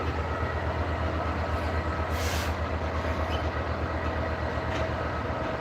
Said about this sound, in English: there's the Pendolino that passed Rachel